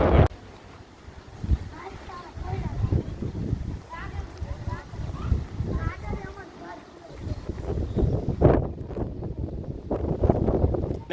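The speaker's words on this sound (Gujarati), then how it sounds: "બહુ જ પવન જો ઉપડી ગયો છે અત્યારે" Strong storm wind sweeps through a village, buffeting the microphone in uneven rumbling gusts while people talk and call out throughout.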